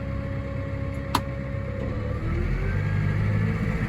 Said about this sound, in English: I'll just rev this up again